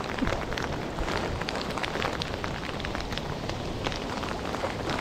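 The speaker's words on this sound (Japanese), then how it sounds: "雨がやべえ。" Heavy typhoon rain squall lashing a seawall, a dense, steady roar of pouring rain with gusting wind, loud and continuous with no talk.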